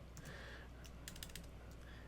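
Someone types on a computer keyboard at a router configuration console in a quiet room. A few soft, quick key clicks cluster near the middle, faint and up close.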